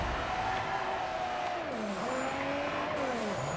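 Mazda RX-7 driving in a video game, a steady engine whine shifting pitch through gear changes, with tire squeal and skidding in the background, no talk.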